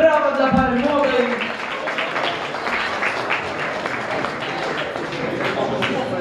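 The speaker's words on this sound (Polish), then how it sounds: "Brawa dla pary młodej" Wedding guests at a reception hall applaud the bride and groom, steady dense clapping from a crowd, with a voice briefly heard at the start.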